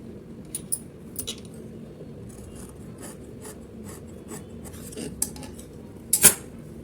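Scissors trim extra blouse fabric close by, with soft rasping cuts over a low background hum and a few sharper metallic clicks near the end.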